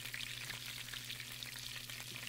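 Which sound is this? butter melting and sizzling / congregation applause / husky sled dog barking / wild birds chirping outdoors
butter melting and sizzling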